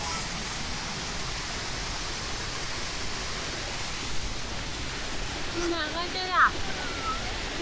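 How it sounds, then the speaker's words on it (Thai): Steady broadband rushing of a waterfall in Kanchanaburi, Thailand, fills the whole stretch, with a brief faint chirp or voice rising briefly near the end. "ฟังเสียงน้ำตก"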